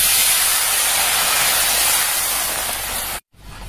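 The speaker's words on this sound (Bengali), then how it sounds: "এরপরে একটু জল দিয়ে দিই।" Water poured into a hot pan of frying crab masala, a loud broad steaming hiss that holds steady, then fades and cuts off abruptly before faint residual sizzle returns.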